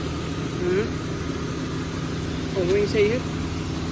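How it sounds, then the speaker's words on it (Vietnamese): A 2007 Daewoo Magnus with a 2.0 engine and automatic gearbox idles smoothly and steadily in the background while someone talks over it. "máy đang nổ rất êm như này, máy nổ rất êm luôn, máy đang chạy đây, anh đang nghe không?"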